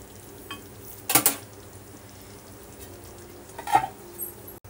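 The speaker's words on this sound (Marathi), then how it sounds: "आणि आता याला आपण शिजत ठेवूया वांग्यांना. मीडियम फ्लेम वरती 10 ते 15 मिनिटं शिजू द्यायचं आहे" Stuffed brinjal sizzling in a pan over a medium flame, a steady low frying hiss broken by two brief clanks of a spoon or lid against the pan, close and with no talking.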